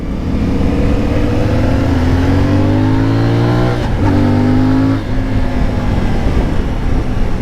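A CF Moto 450 Ibex motorcycle engine pulls loudly through rising revs, the tone climbing steadily, dipping briefly at a gear change, then climbing again, heard close up with no talk.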